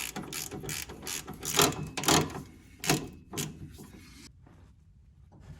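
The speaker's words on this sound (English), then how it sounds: "then you can tighten this on down" A hand ratchet tightens a motor mount bolt on a Kawasaki KRX 1000, a close series of quick clicking ratchet strokes in uneven bursts that fade out toward the end.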